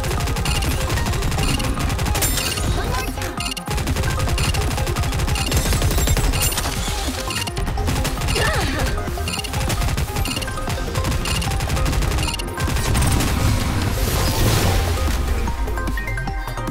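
Sustained, loud gunfire in the anime shooter game Goddess of Victory NIKKE, with rapid machine-gun bursts and heavy impacts layered over game music, nearly unbroken throughout.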